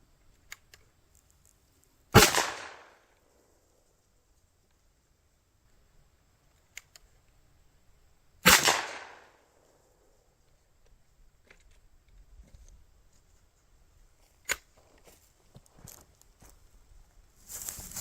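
Two loud, sharp shotgun blasts from a smooth-bore coach gun with an 18-inch barrel and modified choke firing buckshot, several seconds apart, each followed by a brief decay, with faint clicks and handling noises between.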